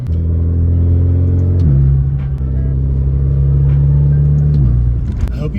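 A 2.0T Alfa Romeo Giulia with an AFE axle-back exhaust and resonator delete drones loudly up close, its engine note climbing in pitch partway through, holding, then dropping off near the end.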